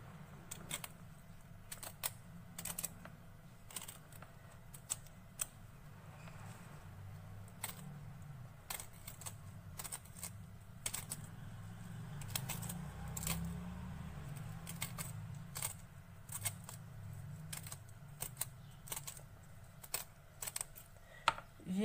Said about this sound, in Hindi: इस तरह गंदलों को फिर बाद में बारीक बारीक काट लेंगे छीलने के बाद।